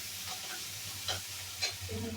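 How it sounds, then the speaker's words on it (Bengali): Chopped ginger is stirred into a mixture frying in oil, giving a soft, steady sizzle with a few sharper scraping strokes from the spoon, faint and close. "একটু আদা কুচি করা, আদা কুচিটা দিয়ে দিলাম। মিক্সচার করবো।"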